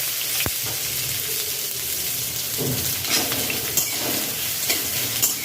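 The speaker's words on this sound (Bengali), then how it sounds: "এবার এতে অ্যাড করছি আমি যে পেঁয়াজটা কুচিয়ে রেখেছিলাম সেটা" Chopped onion hits hot oil already crackling with nigella seeds, giving a steady broad sizzle with occasional scrapes and stirs of the utensil in the pan, close and fairly loud throughout.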